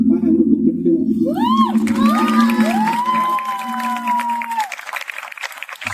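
Audience at a Ganesh festival cultural program clapping and cheering for dancers, a dense close wash of applause with whoops and shrill whistles rising over it, fading slightly toward the end.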